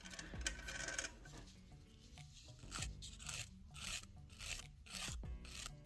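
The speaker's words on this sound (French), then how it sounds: "je vais aller limer la surface de mon ongle avec une lime ultra douce" Soft nail file rasping across a fingernail surface, a series of short, close scratchy strokes in an uneven rhythm, fairly quiet, with no talking.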